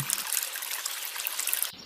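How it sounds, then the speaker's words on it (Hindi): Water pours steadily from a big pipe into a fridge, a continuous hissing trickle, close and fairly loud, that stops abruptly near the end. "कालू कौवा फिर एक बड़े पाइप से उस फ्रिज के अंदर पानी भरने लग जाता है।"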